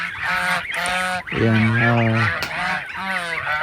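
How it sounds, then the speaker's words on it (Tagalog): Geese and goslings honk loudly and continuously as they race to food, a dense chorus of overlapping nasal calls with one strong burst in the middle, and a voice speaks briefly. "namumuna yung mga gansa. Yung mga babying gansa."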